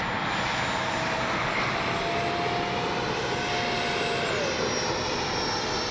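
A continuous jet engine whine from a small RC model F-86 jet with a 64mm fan holds steady, its pitch shifting slightly partway through as it flies past.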